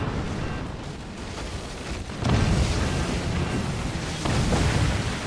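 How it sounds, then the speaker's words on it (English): Deep rumbling secondary explosions of an airship in the game Forts roll on continuously, a dense booming roar that swells louder partway through. "The secondary explosions"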